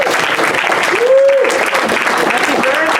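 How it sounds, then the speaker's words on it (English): Dense, sustained applause from a gala crowd, loud and steady throughout, with a brief tonal whistle or voice rising above the clapping. "How about a big round of applause for Cliff Hackney?"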